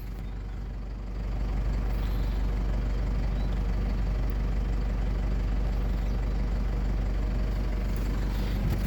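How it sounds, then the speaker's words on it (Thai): Isuzu D-Max diesel pickup engine idling smoothly at close range: a steady, deep, even rumble that swells slightly after the first second, then holds constant. "เครื่องยนต์เดินเรียบปกติ"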